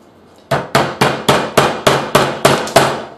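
A hammer strikes a metal jean rivet being set into a mask backed with fiberglass cloth, giving nine sharp, loud, evenly spaced blows in a quick steady rhythm, each with a short ringing decay, close up and with no talking.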